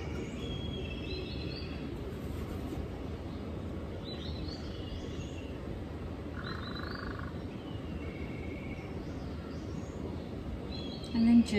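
Birds call and chirp in the background in short scattered bursts, faint and distant over a constant low rumble of ambient noise.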